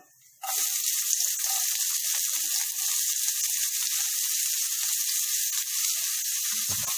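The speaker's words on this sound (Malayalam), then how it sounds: "അതിലേക്ക് ചെറുതായി അരിഞ്ഞു വെച്ചിരിക്കുന്ന മൂന്ന് സവാള ആഡ് ചെയ്ത് കൊടുക്കാം" Finely chopped onions and cumin seeds hit hot oil with a sudden onset, then a dense, steady hiss of sizzling that holds close and loud, with a soft clunk near the end.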